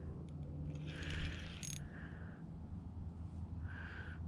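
Fishing reel drag clicking on a light line setup while fishing from a john boat at night, a faint rapid ratcheting that comes in short bursts over a steady low background rumble.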